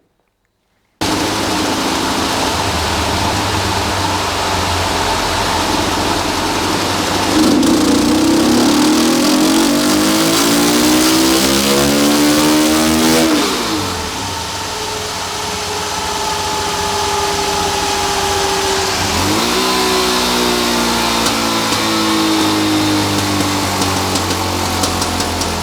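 A Suzuki DR-Z400 single-cylinder motorcycle fitted with a Mikuni TM36 flat-slide carburetor revs loudly up and down in repeated sweeps, the engine climbing high, dropping back and surging again, close and alone with no voices.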